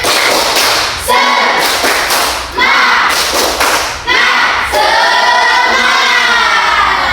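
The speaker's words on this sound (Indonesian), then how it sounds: "Kalau masih semangat, sekarang kita tepuk semangat" A classroom of students performs a rhythmic clapping chant together, sharp bursts of synchronized claps separated by short pauses, with the children's voices chanting along in unison over several repeated rounds.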